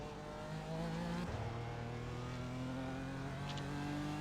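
Race car engine in the iRacing sim during a GT4 cool-down lap at Summit Point, a steady mid-pitched drone whose tone drops and shifts around a gear change, then holds an even, moderately loud hum with no voices.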